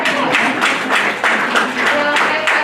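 A school community crowd at a district board meeting cheering and clapping together in a steady burst of applause, fairly close, with voices mixed in.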